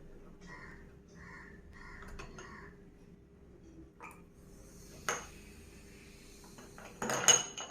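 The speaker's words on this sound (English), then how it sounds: "Now add 2 pieces of ice cubes." Two ice cubes dropped into a glass of lemonade made with lemon, mint and Sprite, giving a few sharp glassy clinks, with the loudest knocks coming late, after a quieter start.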